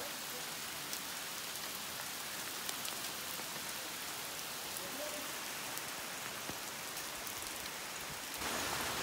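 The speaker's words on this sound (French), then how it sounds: "C'est que de la grêle, hein. Il n'y a pas de pluie." Hail beats down steadily with no rain, a dense, even hiss of ice hitting surfaces that runs the whole time, with a faint distant rumble in the middle.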